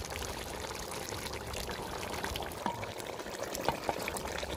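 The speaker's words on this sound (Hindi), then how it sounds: "अभी हम कर लेते हैं ऑयल शामिल" Cooking oil poured into a pot in a home kitchen, a faint continuous liquid pour with soft trickling and a few small splashes near the end, quiet and alone without talk.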